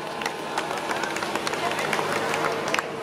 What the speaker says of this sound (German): Der Applaus ist auch für euch.